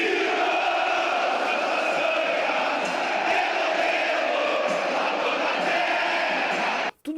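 Grêmio supporters in the stadium's terrace section massed in song, chanting the Gaúcho anthem, a dense, loud and sustained crowd chorus that carries on for several seconds before cutting off abruptly at the end.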